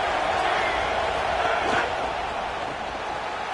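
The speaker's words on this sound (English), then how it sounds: "This crowd knows when to bring it." Stadium crowd noise from a College Football 27 video game, a steady loud roar of spectators filling the whole stretch with a brief swell midway, while commentary voices talk over it.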